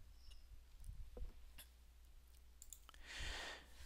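Several sharp, quiet computer mouse clicks spaced through a near-silent room, ending with a brief burst of broadband rustle.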